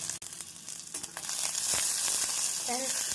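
Curry leaves and a green chili hit hot oil in a pan for chow chow poriyal, giving a steady close crackling sizzle that swells louder and holds, with a brief soft tonal squeak near the end.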